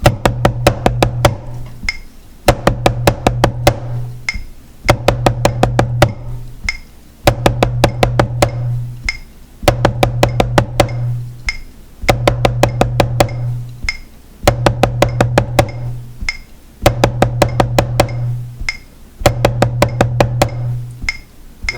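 A beginner drum rudiment played in groups of six with a triplet feel repeats as tight clusters of sharp, loud strokes, about eight evenly spaced bursts separated by short pauses, played alone and up close.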